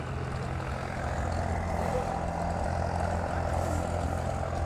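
An open modified pulling tractor powered by two big block Chevy engines drones at a truck and tractor pulling competition, a steady, loud, unbroken engine roar with no voices over it.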